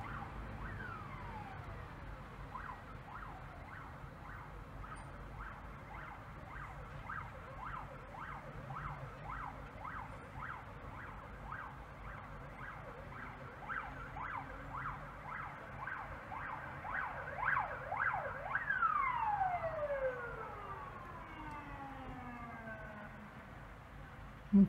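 An ambulance siren wails continuously with rapid rising-and-falling sweeps, growing louder near the end as a pitch drop suggests it passing close by.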